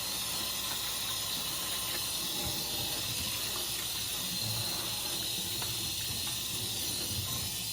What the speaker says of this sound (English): So just give this a thorough scrubbing.